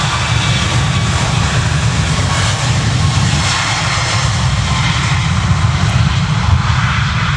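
Aircraft engines at Manchester Airport give a steady, loud, broadband roar with a deep rumble, holding constant throughout with no voices.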